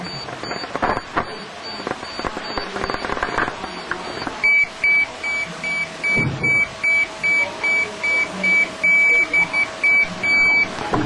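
A Johnson 40-6535 self-leveling rotary laser level's detector beeps in a rapid series of short, evenly spaced tones once it picks up the beam, rising over a busy outdoor background of clatter and noise.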